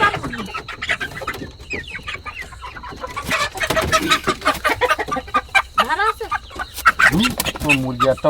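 Chickens cluck repeatedly up close in a Sundarbans village, sharp irregular calls mixed with people talking nearby.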